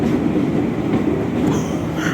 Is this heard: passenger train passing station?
yes